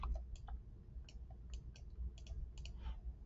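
Keys on a computer keyboard tap out a short command, giving quick irregular clicks, close and fairly quiet over a low hum.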